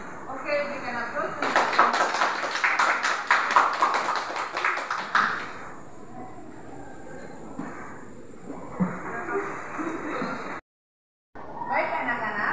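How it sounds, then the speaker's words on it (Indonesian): Students clap in a classroom for a presentation in a civics lesson, a dense spread of many hands lasting about four seconds before fading into room noise and a voice. "Oke, berikan aplaus."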